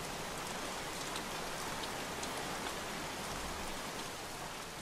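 Heavy rain falls steadily in the video game Heavy Rain, a dense, even hiss of drops striking surfaces, close and continuous with no voices.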